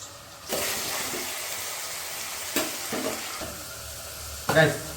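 Onions fry in a pan with mustard seeds and cumin for a tomato curry, a steady close sizzle broken by a few sharp stirring scrapes.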